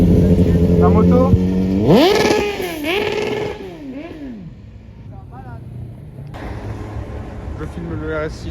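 A motorcycle roars past on a street in Saint-Tropez, its engine rising sharply in pitch as it revs through gears, then fading while other traffic and people talking continue nearby.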